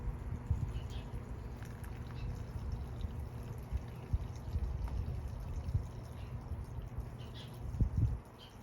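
A GROWNEER 550GPH submersible pump pushes water, giving a steady low watery rush and trickle that runs continuously at moderate level, with a brief louder splash near the end.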